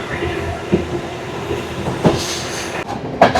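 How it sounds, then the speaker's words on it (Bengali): A loud, steady rumble of a crowded Sri Lankan train changing tracks, with clicks and clacks as the wheels pass over track joints. "এই ট্র্যাক চেঞ্জ হচ্ছে"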